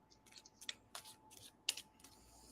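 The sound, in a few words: shuffling tarot cards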